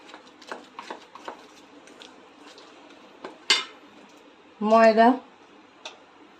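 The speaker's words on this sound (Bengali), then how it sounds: "এতে আমি চালের গুঁড়ি দিচ্ছি 2 চামচ, দিয়ে একটু নেড়ে নিচ্ছি।" A spoon stirs rice flour into palm fruit pulp in a bowl, with sparse light clinks and taps, a sharper scrape, and a short voice in between, all quiet and close.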